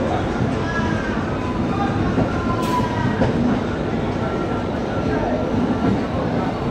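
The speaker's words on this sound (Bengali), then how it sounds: "এই হচ্ছে 12857 তাম্রলিপ্ত এক্সপ্রেস।" The 12857 Tamralipta Express runs past on the Howrah–Digha line with a steady, loud rumble of wheels and carriages that holds through the whole stretch, a brief higher squeal breaking through near the middle.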